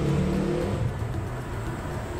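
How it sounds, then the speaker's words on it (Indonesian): A motorcycle engine passes close by outside a house, loud and revving at first, then fading into a steady droning whir over about two seconds, with no voices. "bentar ada suara motor."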